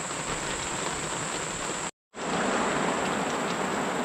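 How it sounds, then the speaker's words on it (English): Steady tropical downpour rain pours down in a dense, even hiss, briefly cutting out for a moment before resuming just as heavily. "I love the sound of rain"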